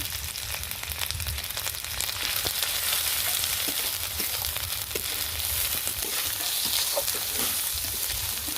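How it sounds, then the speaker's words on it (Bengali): Ginger-garlic paste, chopped onion, chili, turmeric and other ground spices fry in a pan with a constant crackling sizzle. Scraping stirring strokes break through now and then, and no one speaks. "আদা রসুন বাটা, সদের গুঁড়ো, মরিচি গুঁড়া, হলুদের গুঁড়া, লবণ স্বাদ মতো দিয়ে একটু সব কিছু নাড়াচাড়া করছি।"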